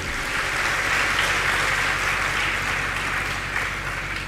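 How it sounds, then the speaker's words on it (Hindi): An audience claps steadily and loudly at a Jain monk's religious discourse, a dense continuous applause with no talking over it. "ताली बजा लो अपने लिए।"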